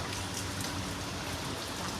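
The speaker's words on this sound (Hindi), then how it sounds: "तो आज भी बारिश हो रही है।" Steady rain patters down in a continuous wash of noise, with no voices present.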